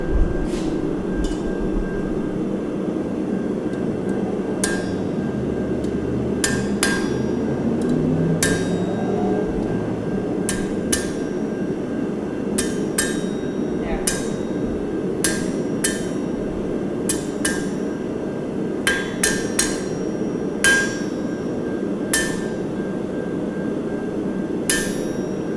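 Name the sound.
hammering hot metal while blacksmith forging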